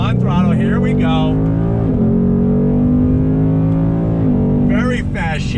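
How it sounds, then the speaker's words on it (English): A 2020 Ford Mustang GT PP1 with a V8 pulls hard under throttle. A loud, steady engine roar climbs in pitch, dips briefly at paddle-shifted gear changes, then climbs again. "Would be wonderful to hear that V8 all day long."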